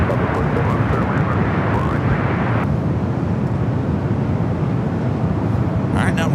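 A passenger airliner rolls down a runway at Los Angeles International Airport in gusty winds, a steady, loud broadband engine roar that holds unbroken for the whole stretch.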